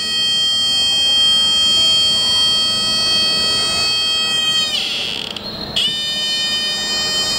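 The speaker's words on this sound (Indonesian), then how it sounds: "alarm berbunyi ketika kabel probe menyentuh listrik." A student-built flood detection alarm blares a continuous, loud electronic buzzer tone as its probe cable sits in water, the pitch briefly sliding and wavering near the end before settling again.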